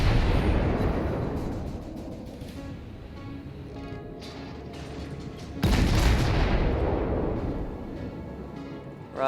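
Naval gunfire in the World of Warships video game: a heavy boom fading into a long rumbling decay, then a second loud blast around the middle that also trails off slowly.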